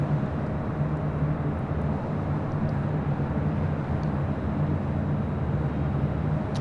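A Lufthansa Boeing 747 taxis slowly at LAX, its engines giving a continuous low rumbling drone with a steady hum, constant and fairly loud from start to finish.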